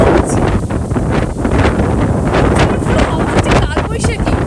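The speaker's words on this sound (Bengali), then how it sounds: "প্রচন্ড হাওয়া হচ্ছে।" Strong gusts from a Kalbaishakhi storm roar constantly, buffeting the microphone with loud, rough rumbling and rustling throughout.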